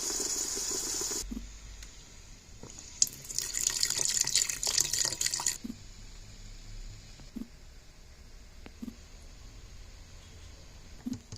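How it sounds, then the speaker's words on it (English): Water runs from a tap and splashes into a pot of stock for Vietnamese pho, a steady bright hiss that swells into a louder pour before easing off, with faint clinks of utensils afterward. "So for every cup of stock, you gotta add a cup of water."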